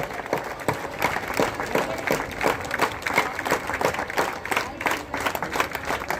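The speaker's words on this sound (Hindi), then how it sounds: "एक और जोरदार ताली हमारे सभी युवाओं के लिए जो इसमें प्रतिस्पर्धा में भाग ले रहे हैं" Sustained applause from an audience standing at the opening of a youth kabaddi tournament, dense steady clapping for the whole stretch with no voice on top.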